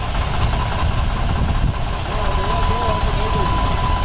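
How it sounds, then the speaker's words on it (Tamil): Swaraj 744 FE tractor with a tipper trailer running at idle, a steady low diesel rumble with a faint whine, while someone talks over it. "அடுத்த பார்த்தீங்கன்னா சூராஜ் டிராக்டர் வந்துருக்கு 744 FE"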